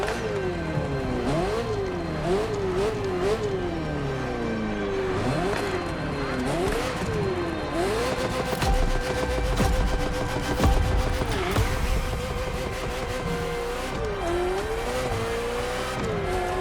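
Ferrari F40 supercar in The Crew Motorfest, engine revving loud and close through rising and falling gear changes, with tire squeal and busy racing ambience around it.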